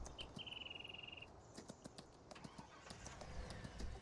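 Horses in Farming Simulator 19: a string of quick hoof clip-clops and a short whinny-like call early on, then scattered hoof knocks on a hard floor, fairly close.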